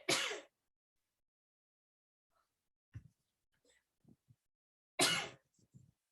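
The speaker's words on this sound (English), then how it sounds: "I need to take a pause because I'm going to sneeze." Two sharp, loud sneezes a few seconds apart, with quiet breathing and small throat sounds between them.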